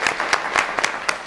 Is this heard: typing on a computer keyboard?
no